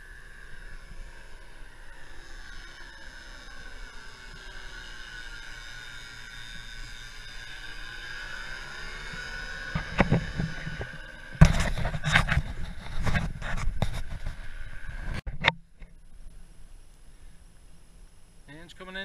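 Paramotor engine running under power during a paraglider flight, a steady droning hum for most of the stretch, broken near the end by loud wind buffeting and bursts of noise.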